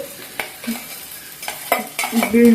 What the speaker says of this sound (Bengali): আমি এবারে বেছে রাখা মাছগুলো দিয়ে দিচ্ছি মাছ ও শুকনো মরিচটাকে